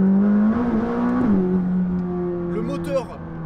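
A McLaren 600LT's turbocharged engine drones steadily with a rising and falling pitch, heard up close beneath continuous talking, its tone shifting as revs change.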